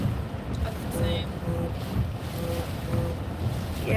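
Strong wind buffeting the microphone outdoors during a storm, amid scattered debris, a steady loud rushing roar with gusty low rumble throughout, while a voice is faintly present.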